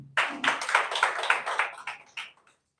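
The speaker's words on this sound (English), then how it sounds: "Let's clap for him." An audience claps in a live seminar room, a brief burst of sharp, uneven hand claps that starts abruptly, thins out and fades to silence within about two seconds.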